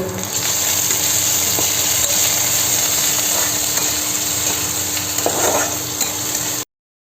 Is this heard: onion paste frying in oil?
yes